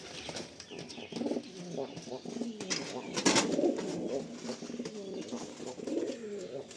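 Pigeons coo softly and repeatedly in a home pigeon collection, with occasional wing flaps and chirps, fairly close and moderately quiet throughout.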